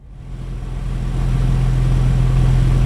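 A synthesized car engine rumbles over low background ambience in a sound-design tool. The engine hum starts soft, swells over the first second, then holds as a loud, steady drone.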